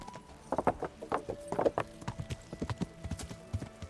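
Horse hooves clip-clop in a steady, close walking rhythm from the medieval game Kingdom Come: Deliverance, with a brief snort or whinny partway through and no talking.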